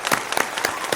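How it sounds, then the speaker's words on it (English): A round of applause in a casual home setting, with distinct bursts of clapping recurring roughly every quarter second across the second, fairly close and moderately loud, with no talking over it. "that is a round of applause"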